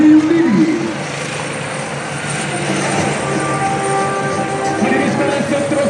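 An Agusta military helicopter of Regiment 881 flies over an armed forces day parade in Segamat, giving a loud, steady engine and rotor drone throughout, while a voice carries on over a public address system.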